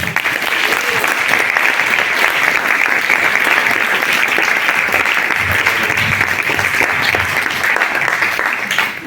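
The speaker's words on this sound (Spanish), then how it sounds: "pido un fuerte aplauso a nuestra primera ponente" Audience at a university talk on women of ancient Rome applauds its first speaker, a law faculty director, with steady, dense clapping filling the room for the whole stretch without pause.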